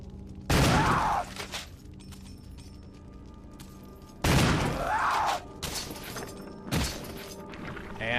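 Three loud, separate gunshots ring out in Resident Evil HD Remaster, each one sharp and then trailing off, spaced a few seconds apart over a quiet background hum.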